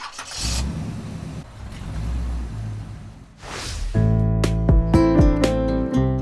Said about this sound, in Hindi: और उसने गाड़ी दोबारा शुरू की